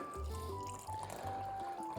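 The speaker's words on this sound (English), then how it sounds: "Let's add the water." Freshly boiled water pouring into a cup over lemongrass for a Thai sipping broth, a steady close trickle with rising filling tones for about two seconds.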